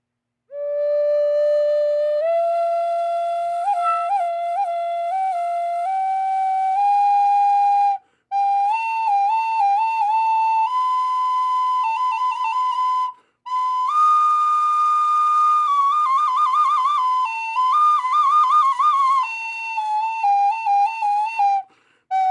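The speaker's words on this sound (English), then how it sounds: "that's what this flute sounds like" A breathy wooden Northern Spirit flute in Indigenous style plays a slow, wavering melody alone, sustained notes with gentle ornaments and a few short pauses for breath.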